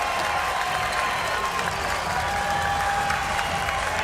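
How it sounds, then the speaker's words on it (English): Basketball fans at an Ottawa BlackJacks home game against the Scarborough Shooting Stars in the CEBL fill the arena with sustained applause and cheering, a steady, even roar heard from a distance. "the crowd is getting behind this team"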